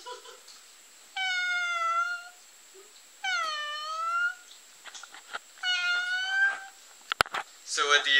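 A voice imitates a cat, three drawn-out meows with pauses between them, close and clear, followed by a short clatter and brief vocal sounds.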